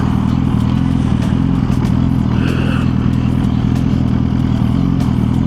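1000cc motorcycle riding along, a loud steady engine drone with wind buffeting throughout and a slight shift in pitch partway through.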